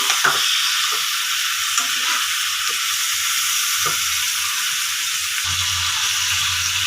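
Food frying in a pan with juice added, stirred with a utensil: steady bright sizzle throughout with intermittent scraping strokes, close and fairly loud, no talking.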